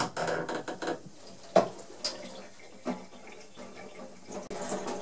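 Warm tap water runs steadily over a Dyson V8 cordless vacuum filter being rinsed in a sink, with a few sharper splashes and knocks as the filter is handled, close and fairly loud throughout.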